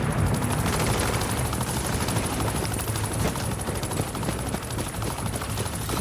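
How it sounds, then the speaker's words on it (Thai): A loud, continuous helicopter rotor thrum from the video game The Division, during an assault on the United Nations building, steady and close throughout with no pauses. "จุดอ่อนของฮออยู่ที่แกนใบพัดถึงกูจะยิงไม่โดนก็เถอะ"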